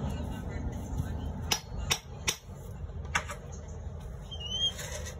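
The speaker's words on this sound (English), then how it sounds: "Tap, tap again." A screwdriver tip taps a 34.5kV transformer with about four sharp metallic knocks, irregularly spaced, over a steady humming background.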